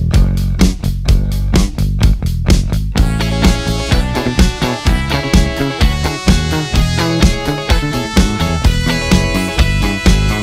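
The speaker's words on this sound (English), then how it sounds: "Retrovibe Telecaster Bass. That sounds like this." Retrovibe Telecaster Bass played alone, with a few separate plucked notes at first, then a dense, steady groove of bass notes that continues without pause.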